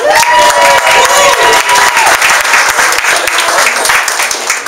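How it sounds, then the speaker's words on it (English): A crowd at a holiday networking event gives loud, sustained applause with some cheering, close and continuous throughout. "All right, give her a hand clap."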